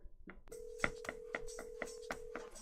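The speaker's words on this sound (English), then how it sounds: "The phone's ringing." A telephone rings in a steady electronic tone pattern of evenly spaced pulses, heard alone and fairly faint indoors.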